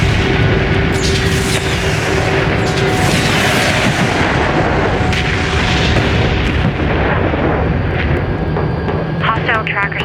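Weapons fire in the strategy video game Homeworld: Deserts of Kharak: a dense, continuous barrage of booming, rumbling blasts that fills the whole stretch at steady loudness, with voices mixed into the battle noise.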